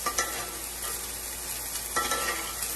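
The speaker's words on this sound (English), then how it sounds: "basting your steak a little bit." A steak sizzles in a pan as it is basted with butter, garlic and thyme; a continuous close frying hiss is broken by a few louder splashing bursts as the hot butter is spooned over.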